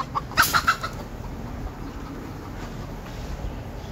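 A rooster on a hot day gives a few short, close clucks in quick succession near the start, then falls quiet against a steady background hiss.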